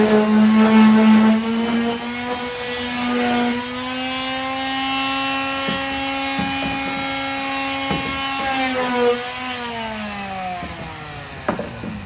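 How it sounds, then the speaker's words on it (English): Finishing sander rubbing off sharp wood edges on a small carved oil lamp holder, a close, steady motor whine with shifting pitch and brief knocks as the pad meets the wood. "Now I'm going to use a finishing sander."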